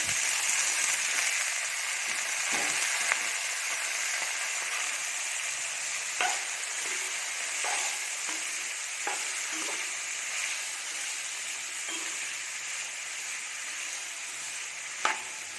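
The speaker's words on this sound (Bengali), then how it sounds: "সবজিগুলো ভাজা হতে থাক" Carrot, cauliflower and beans fry in a pan with a steady, bright sizzle that runs throughout. Occasional close clinks and scrapes of stirring cut through the hiss at irregular intervals.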